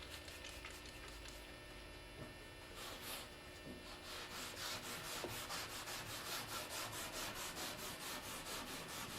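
Wet Scotch-Brite pad scrubbing paint stripper on a surface, faint close back-and-forth rubbing strokes that turn into a quicker regular scrubbing rhythm, with no talking.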